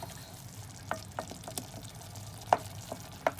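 Mushrooms stirred in a frying pan while cooking with stuffed red hamour fish and vermicelli, with a low sizzle and scattered scraping clicks of a utensil, two knocks louder than the rest.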